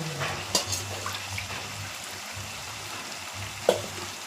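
A pan bubbles and sizzles softly as curry simmers in water, with a couple of sharp clinks from a utensil against the pot.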